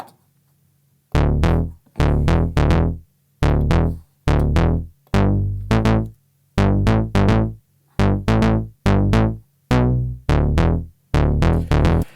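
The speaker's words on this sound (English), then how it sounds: "they have also some very classic synth bass that sounds like this" A punchy, minimal synth bass plays short, rhythmic repeated notes with brief gaps between bursts, loud and upfront with no other instruments.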